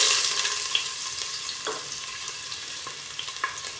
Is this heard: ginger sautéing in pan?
yes